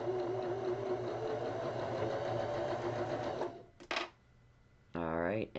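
Home sewing machine stitching a quilt block seam, a steady, close whirring run for about three and a half seconds, then stopping, with brief bursts of motor noise after the pause.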